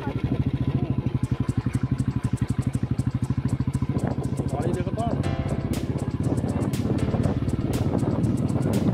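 A motorcycle engine running steadily on a traffic-free road toward Susunia, with a rapid, even low pulse throughout and some rattling clatter midway.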